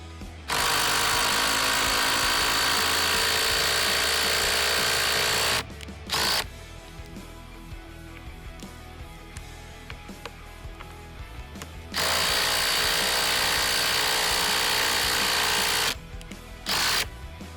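A loud 20V 1/4-inch impact driver whirs in two long, steady bursts separated by a quieter stretch, driving a lag screw into wood without a pilot hole.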